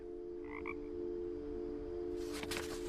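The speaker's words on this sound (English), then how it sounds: "I'm hearing rocket frogs now." Rocket frogs croak in the video game What Remains of Edith Finch, a chorus of short paired croaks over a steady low hum, followed by a burst of brighter rasping calls near the end.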